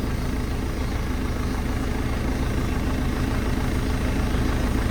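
A tractor engine idles steadily while warming up in a workshop, a continuous low, even rumble at constant speed throughout, with no talking.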